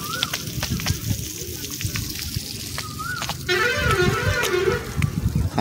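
Water poured during household construction work, a steady sloshing and trickling stream running throughout at close range, growing fuller partway through, with faint background voices and sounds.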